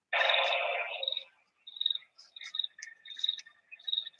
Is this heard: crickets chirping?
yes